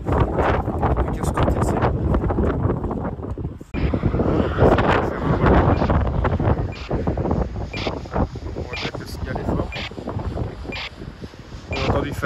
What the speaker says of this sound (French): Comme il y a beaucoup de vent, ça risque de nous la déplacer un peu plus loin.